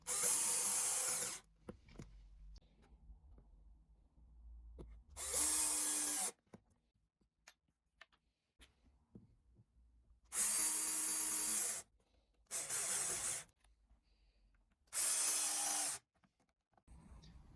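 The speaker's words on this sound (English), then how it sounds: "To attach the top, I simply just screw on these angle brackets." A power drill drives screws through angle brackets into a wooden radiator cover in five loud, separate bursts of a few seconds each, with quiet handling noise in the gaps.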